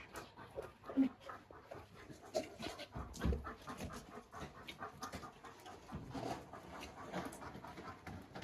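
Several dogs pant and whimper at morning feeding time in a bedroom, close and fairly quiet, with uneven breathing bursts, small whines and light movement while someone speaks softly at times.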